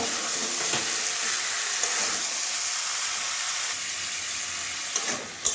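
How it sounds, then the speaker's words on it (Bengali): A katla fish head sautés in a pan with potato, pumpkin, stems and malabar spinach, making a loud, continuous close sizzle with a few faint taps of stirring and no voices. "দিয়ে দেবো দু মিনিট এভাবে কষিয়ে নেব"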